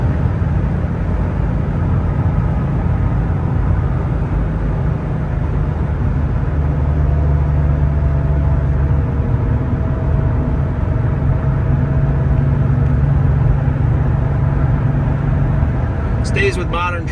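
A 1989 Porsche 911 Carrera coupe cruising at around 70 mph on the highway, with a steady, continuous engine and road drone filling the cabin from start to finish and a brief click near the end.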